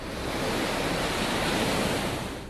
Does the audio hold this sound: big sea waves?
yes